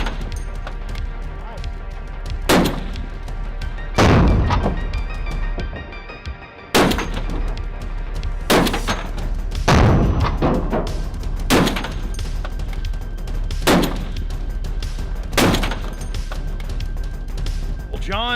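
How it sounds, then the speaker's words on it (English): A .50 caliber rifle fires a series of heavy, booming shots outdoors in daylight, about eight loud blasts spaced a second or two apart, with talking heard between them. "it's been a long time since I've shot a 50 caliber"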